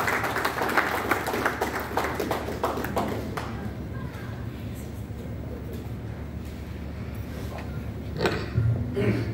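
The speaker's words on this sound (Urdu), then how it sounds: "میں چاہتا ہوں کہ دوستو زوردار تالیوں کے ساتھ اس شخصیت کا استقبال ہونا چاہیے" Audience applause greets a poet at a mushaira, an Urdu poetry gathering at Poona Club. A dense burst of clapping fills the first few seconds, then fades into a low murmur of the hall.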